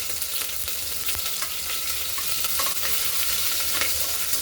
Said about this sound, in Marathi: मोहरी छान तडतडली, आता जिरे घालू, हिरव्या मिरच्या, 10-12 कढीपत्त्याची पाने, अद्रक लसणची पेस्ट।